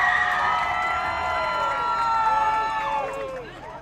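A big crowd at a high school football game cheers and screams for DC, loud sustained shouting and whooping that slowly fades toward the end.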